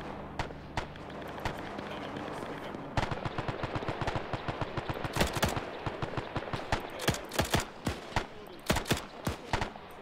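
Gunfire crackles in a WW2 video game set at the Battle of Tarawa, rapid sharp shots and bursts of automatic fire over a rumbling battlefield bed, growing denser after a few seconds.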